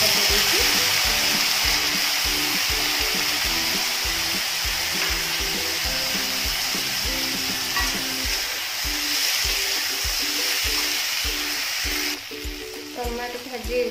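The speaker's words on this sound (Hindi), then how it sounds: "वर्तमान पियाज भाजी जाइछि" Onions frying in a pan for a jackfruit curry, with a loud continuous sizzle and rhythmic clatter of stirring throughout, as a voice speaks softly in the background.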